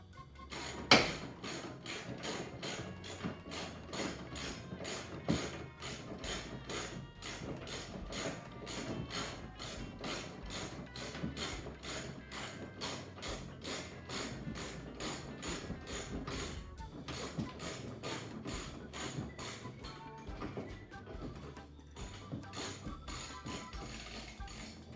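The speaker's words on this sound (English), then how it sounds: "Jack's holding up the body and it's going to go back down right now." A car jack lowers the body of a 1974 VW Sunbug, giving a fast, steady metallic ratcheting click that repeats evenly and close for the whole stretch, with only brief pauses and no talking.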